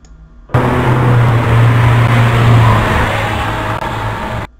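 A car sound effect plays from a Scratch coding project, a loud steady engine roar about four seconds long that starts abruptly and cuts off, with no talking over it.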